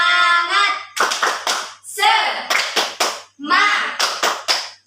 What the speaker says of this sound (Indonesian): kalau semangat, kita tepuk semangat dulu